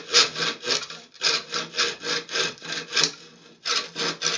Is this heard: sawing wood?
yes